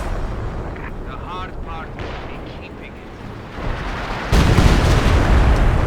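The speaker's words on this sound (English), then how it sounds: "ML-20 is firing a barrage." Artillery barrage from an ML-20 howitzer in the strategy game Company of Heroes 2, a steady rumble of shelling that swells into a louder, denser roar of blasts near the end.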